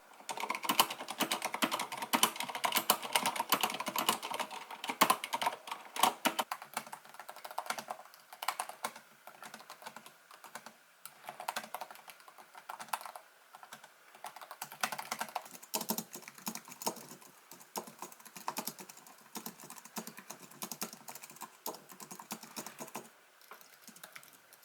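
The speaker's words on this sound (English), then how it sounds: "Here's a quick sound test." Typing on an Apple Magic Keyboard with numeric keypad, with steady runs of quick, light, close key clicks that pause briefly and start again, heard alone without any voices.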